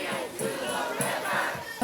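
Protesters gathered outside a hotel on Melrose Avenue in Iowa City shout together in a rough, overlapping crowd roar with rhythmic chant-like bursts, loud and sustained throughout.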